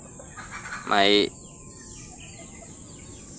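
A single short chicken cluck stands out over a steady hiss of background noise, with faint voices nearby.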